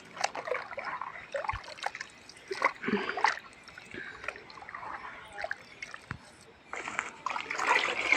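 Cow dung is stirred by hand into a bucket of water, giving soft sloshing and splashing in irregular bursts, fairly close and quiet, with some faint background sounds.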